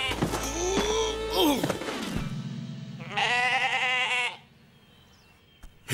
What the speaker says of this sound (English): We've got a sheep to rescue.